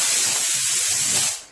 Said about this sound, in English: Just shoot it off quickly with some compressed air